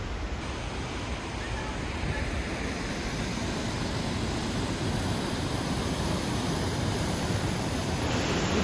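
Steady, broadband rushing of a river flowing continuously through a Scottish forest, constant and fairly loud with no breaks or other sounds.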